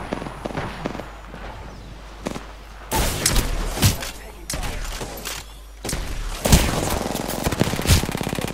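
Bursts of rapid game gunfire crackle in clusters, with sharp single shots between them, loud and close over a busy background.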